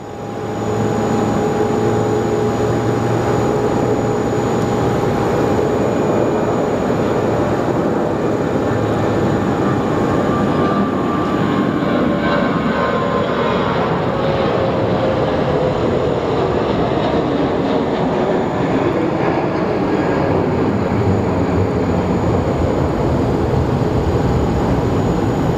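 A plane passes along a rain-soaked runway at Sky Harbor International Airport, a steady loud engine roar and wash that swells and lingers continuously, with no talk.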